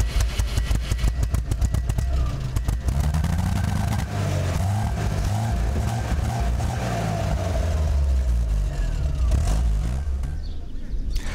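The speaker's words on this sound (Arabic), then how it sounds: "دعونا نأمل أن يدور المحرك من جديد." A car engine starts and runs in the African bush near Kruger reserve, with rapid cranking pulses at first, then a close, loud, rough running engine that continues throughout.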